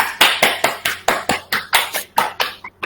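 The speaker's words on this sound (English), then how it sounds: "There was literally one person clapping." A single person clapping during an online web development class, about a dozen crisp, close hand claps in a steady even rhythm with no other voices.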